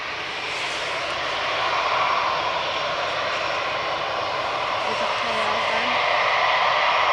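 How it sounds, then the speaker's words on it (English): Singapore Airlines Airbus A350, three years old, lining up on the runway at Manchester Airport: a steady, loud jet engine roar that swells slightly, heard over nearby talk. "Line up on the runway there, guys, is Singapore Airlines to Singapore. It's an Airbus A350 that is 3 years old."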